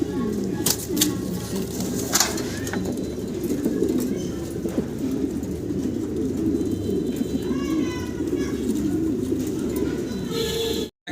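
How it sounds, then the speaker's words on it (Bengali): Pigeons at a pigeon farm coo steadily and close by in a dense, continuous chorus, with occasional brief wing flutters and faint chirps mixed in. "সুন্দর একজোড়া শৌকিং কবুতর আপনারা দেখতে পারতেছেন"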